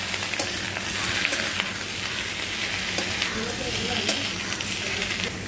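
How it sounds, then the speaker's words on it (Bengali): Pointed gourd frying and being stirred in a pan, a steady close sizzle with light scraping stirs running throughout, no voices. "পটলগুলোকেও ভালো করে ভেজে নেব।"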